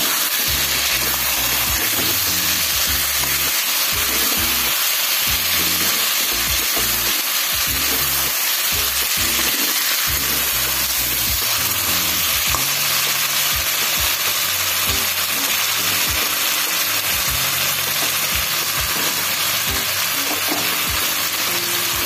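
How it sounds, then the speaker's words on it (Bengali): Chicken pieces fry with masala in a pan for capsicum chicken kosha, a loud, dense, continuous sizzle and crackle heard close up, with occasional stirring knocks and no talking. "মাংসগুলো দিয়ে মশলাটাকে আরেকবার কষিয়ে নেবো মাংসটা দিয়ে।"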